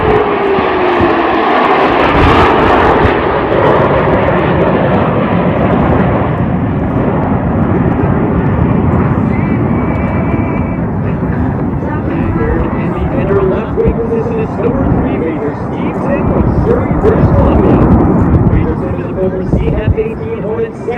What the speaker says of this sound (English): it was actually a go-around when he had to do is put his gear up